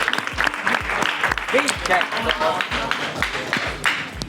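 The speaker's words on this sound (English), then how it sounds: "a nice clap for Vincenzo so he can talk about it" A small group applauds for Vincenzo inside a chestnut factory in Cicala, Italy, a brisk run of claps with a regular thumping beat from machinery underneath and voices mixed in.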